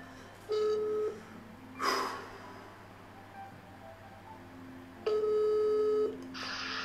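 A telephone ringback tone sounds while a call is placed, with two long, steady electronic beeps separated by a pause of about four seconds. A faint breath or rustle falls in the gap between them.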